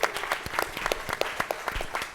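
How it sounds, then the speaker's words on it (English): An audience applauds steadily at a live talk event, a dense patter of many hands clapping at close range with no voices standing out. "So clap it up for yourselves before we get started."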